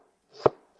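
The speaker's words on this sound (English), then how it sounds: "I'm going to cut up one napa cabbage and put it all in here as well." A single knife chop through napa cabbage, one crisp close stroke that lands hard on the board and is gone in a moment.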